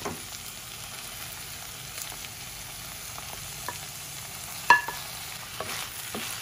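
Fish roe frying in a pan with ginger-garlic paste, a steady low sizzle with scattered stirring scrapes and one sharper clink midway, close and moderately quiet.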